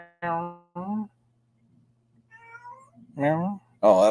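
Cat meowing indoors, two short close meows followed by a faint quieter call and then two louder, longer meows, with a low steady hum underneath.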